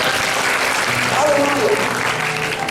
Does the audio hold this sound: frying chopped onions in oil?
no